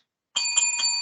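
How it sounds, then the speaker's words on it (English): A bright bell rings repeatedly in quick pulses, starting abruptly and continuing loud and close with a sustained metallic shimmer, marking the close of a wrestling podcast. "there's the bell, so we know what that means."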